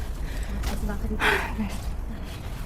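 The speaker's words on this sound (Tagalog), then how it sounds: "Hingal agad." Heavy, breathy exhalations from a hiker out of breath on a rough trail up Sharp Peak, a few audible gasps close to the mic over steady outdoor background noise.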